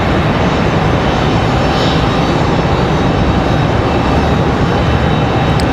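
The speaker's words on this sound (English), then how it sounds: "Looks like we're gonna have that Delta A320" A Delta Airbus A320 jet at Raleigh-Durham International Airport gives a steady, loud broadband engine roar that holds evenly throughout, with no voices.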